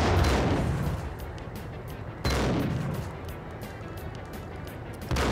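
A grenade blows up in the shooter game Max Payne. Loud booming blasts come at the start and twice more, each fading into a rough, noisy decay with crackling gunfire-like bursts.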